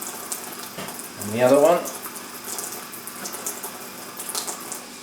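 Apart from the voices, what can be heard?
rinsing bark under a kitchen water tap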